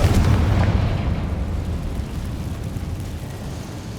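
Confringo spell blast in the game Hogwarts Legacy, a heavy rumbling boom that starts loud and slowly decays into a low roar, with no voices.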